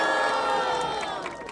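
Spectators at a Zona Leste rap battle (Batalha da Leste) in Brazil roar and shout in a sustained wall of cheering, loud and dense throughout and easing slightly toward the end.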